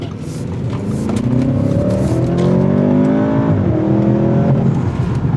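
A 2021 Audi S8 engine revs and strains through a quick turn, its pitch climbing, dipping briefly, then climbing again, loud and close.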